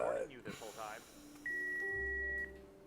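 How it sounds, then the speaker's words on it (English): A steady electronic answering-machine beep in a Jackbox party video game sounds for about a second, a single clean sustained tone following brief talk. "Please leave a message at the beep"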